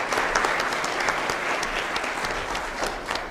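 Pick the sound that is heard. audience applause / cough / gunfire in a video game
audience applause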